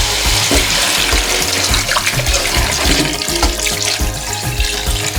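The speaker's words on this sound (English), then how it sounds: "So we add in the water, right?" Water gushes loudly and steadily into a cooking pot of pork stew, a continuous splashing pour that runs unbroken with no voices over it.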